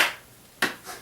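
A single sharp hand clap rings out close by, followed by a softer echo or second tap a moment later.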